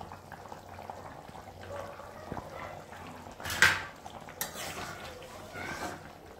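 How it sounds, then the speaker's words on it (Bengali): Thin chicken curry simmers in a pot, a soft bubbling under faint kitchen clatter, with a couple of sharp metallic clinks of a utensil against the pot partway through. "দেখো চিকেনের ঝোল ফুটে এসছে"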